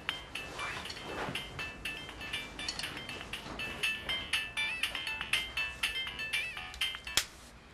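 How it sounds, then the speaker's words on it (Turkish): A phone rings indoors from another room, a bright repeating electronic melody of quick, evenly spaced tones that continues for several seconds at moderate volume, with no talk over it. "Telefonum mu çalıyor?"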